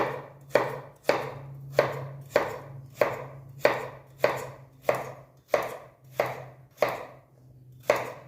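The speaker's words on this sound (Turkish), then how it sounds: "Onu da şöyle küçük yapalım. Ona küçük küçük keselim." A knife chops carrot on a cutting board in a steady rhythm, about a dozen crisp close strikes roughly every half second, with a low background hum.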